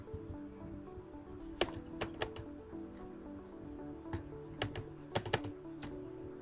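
Card numbers are typed on a computer keyboard, with quiet, close key clicks in scattered clusters and short bursts over faint background hum.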